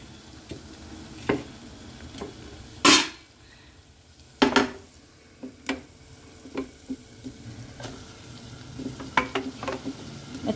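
Broad beans (chikkudukaya) sizzling in a pan for a curry, a soft continuous fry under repeated scraping and knocking of a spoon against the pan, with a few louder clanks as they are stirred.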